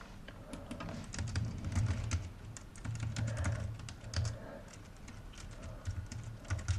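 Steady, quick clatter of a computer keyboard as test code is typed, with keystrokes coming in uneven bursts close by and no one talking.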